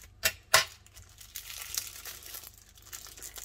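Package tape is cut with scissors and plastic packaging crinkles: two sharp snips or tears up front, then softer, scattered rustling close by, with no talking.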